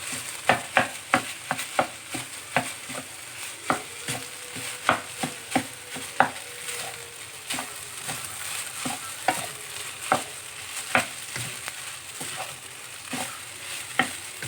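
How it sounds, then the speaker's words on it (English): Fried rice with vegetables, light soy sauce and black soy sauce is stirred in a sizzling pan. A steady fry hiss runs under repeated sharp scraping knocks of the utensil, close by, with no talking. "I'm just going to give all this a good mix"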